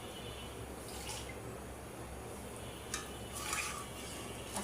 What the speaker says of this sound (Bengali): আমি এখন ঝোল দিয়ে দিই।